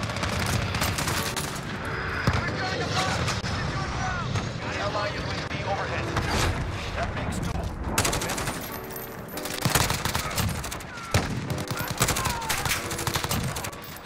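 Rapid automatic rifle fire from the Grau 5.56 in the Modern Warfare video game, dense bursts of loud gunshots and explosions filling the whole stretch, with a player talking underneath.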